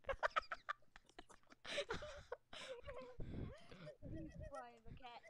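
Clucking bird calls in a video game where players are cats, heard in short bursts under frequent talking and laughter.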